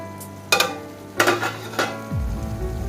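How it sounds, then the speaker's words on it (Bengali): A metal lid is lifted off a pot of rohu fish curry with raw mango, giving a few sharp clanks and scrapes. A soft bubbling simmer rises under them and carries on steadily. "ঢাকনা খুললাম"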